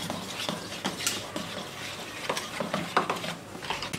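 Spoon stirring a marinade of lemon juice and spices for chicken, giving a run of close, wet, irregular scraping and clinking strokes at a quick rhythm.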